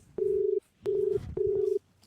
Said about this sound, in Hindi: हम तो अपने प्रधान जी का फोन करबे